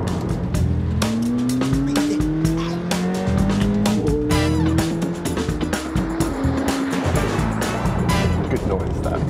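A petrol-powered McLaren car revs hard, its engine pitch climbing and dropping in repeated surges while the tires squeal loudly and continuously, up close and with no voices.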